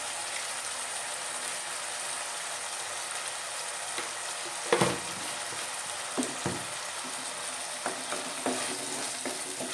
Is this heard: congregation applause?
no